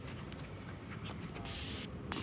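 Kids' spray sunscreen hissing from an aerosol can at close range, applied heavily in a steady stream under low background noise, with a brief renewed burst near the end.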